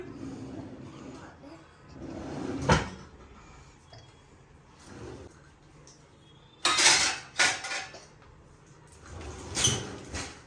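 Ceramic dishes and pots clatter and knock as they are stacked into a home kitchen cupboard, with several separate bursts of clinking and a sliding cupboard door between quieter pauses and faint background voices.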